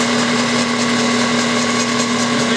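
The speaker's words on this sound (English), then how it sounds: "So I'm gonna go ahead and start this machine up." A vintage distributor tester machine runs with a steady, loud motor hum and a strong constant drone, unbroken and without talk.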